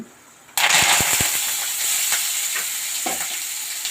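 After a quiet moment, onions and tomatoes hit hot oil with a sudden loud sizzle that keeps crackling and hissing steadily, close by.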